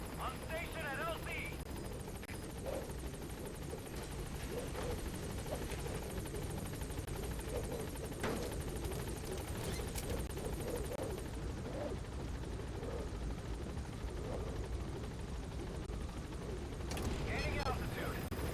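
In Metal Gear Solid V, the B-Quad support helicopter hovers at the landing zone, a continuous dense rotor roar and wash that stays loud and steady throughout, with a radio voice over it.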